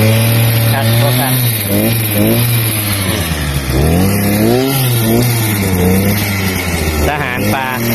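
A farm tractor engine revs loudly and repeatedly close by, its pitch rising and falling in steady surges while people talk over it.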